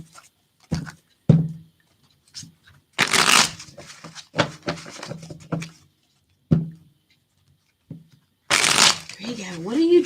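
Tarot cards are shuffled and handled in short bursts of riffling and flicking, close and crisp, separated by pauses, with a person talking at times.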